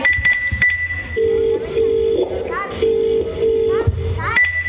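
A steady electronic ringing tone of an unanswered phone call repeats in spaced pulses, mixed with faint clinks and background voices.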